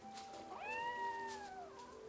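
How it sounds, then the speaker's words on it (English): A single drawn-out cat meow in the video game AFK Journey, rising then sliding down, over a steady hum of game background sound. "Is that a cat in the game?"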